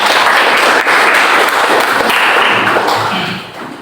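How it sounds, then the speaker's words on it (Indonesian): Classroom audience applauding together at the end of a lesson, a dense, steady wash of clapping that stays loud throughout and thins out in the final half second. "Oke, tepuk tangan lagi untuk kita"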